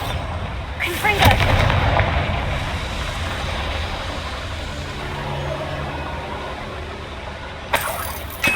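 A Confringo fire spell bursts and explodes in the Hogwarts Legacy video game, a loud broadband blast that opens with a sharp crack and then rumbles on as a sustained roar, with another brief burst near the end.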